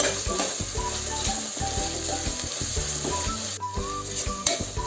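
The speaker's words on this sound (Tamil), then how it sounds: "இஞ்சி பூண்டு பேஸ்ட் பச்சை வாசனை போகிற வரைக்கும் இதை கொஞ்சம் வதக்கிக்கலாம்." Ginger garlic paste and green chillies sautéing in a pan for sweet corn pulao, a steady close sizzle with spatula scrapes and clinks against the metal throughout, no talking.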